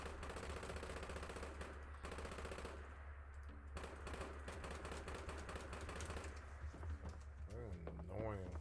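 A light machine gun in the Fallout 76 video game fires in rapid automatic bursts, heard as dense rattling volleys that sit quietly in the mix alongside other game sounds, with a voice talking over them.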